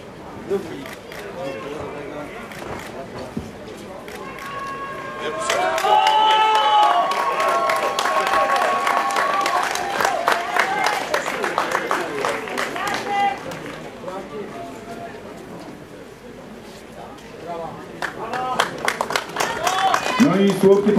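Crowd applause and cheering for a fighter being introduced at a Polish fight night, Noc Góralskich Wojowników, swelling in loud waves over an arena announcer's voice and settling into steady clapping and crowd noise.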